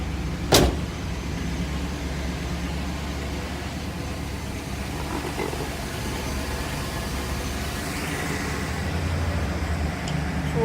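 A car engine idles after a cold start on a cool 51°F day, a steady low rumble heard close throughout, with a sharp knock near the start and no talking.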